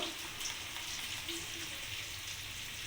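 Cauliflower and potatoes fry in a pan, a steady, dense sizzle with a few faint clinks, running evenly without pause and with no voice over it.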